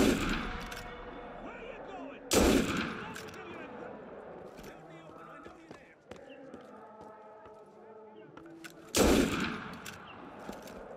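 Gunfire in Assassin's Creed Unity: two sharp, loud bursts a few seconds apart with quieter game noise between them and faint voices in the background.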